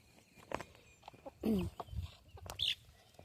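Chickens in a coop with a rooster, scattered close clucks and short squawks, one louder throaty call in the middle and a brief high chirp near the end.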